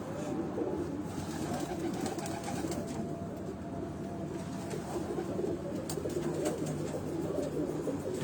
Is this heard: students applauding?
no